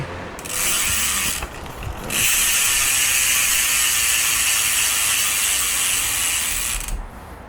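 Rapid, continuous freewheel ratchet buzz from the spinning rear hub of a Backer V4 16-inch chromoly folding bicycle, loud and close, with brief pauses between spins.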